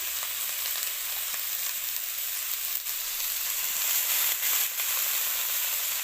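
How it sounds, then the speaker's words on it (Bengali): Cabbage and potato fry in a pan with a steady, dense sizzle and hiss, close and continuous, with no voices. "আর এই বাঁধাকপিটা আমি ভাজা করব"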